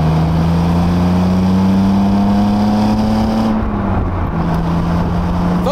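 A BMW Z3 engine runs steadily and loudly close by, its tone rising slightly and then dropping as the revs settle, with no talking.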